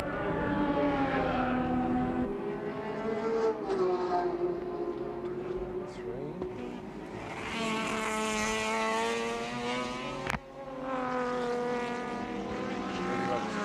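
Touring car engines roar in the pits at Oran Park during the 1984 Australian Endurance Championship, a loud, continuous, harmonic drone that rises and falls in pitch as cars rev and pass, with one sharp crack near the end.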